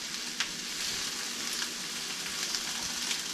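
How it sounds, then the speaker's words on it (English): Peppers for quesadillas sauté in a pan with a steady, close sizzle and crackle, broken by a few faint stirring clicks and no talking. "So we're going to saute these till they get tender"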